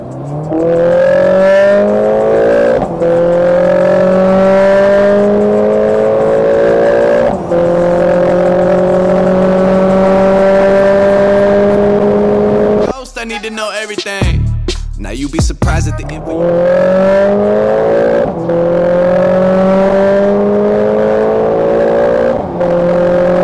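A Mercedes A45 S AMG turbocharged four-cylinder accelerates hard on the Autobahn, its pitch rising steadily and dropping with each gear shift, with a brief noisy break before pulling again.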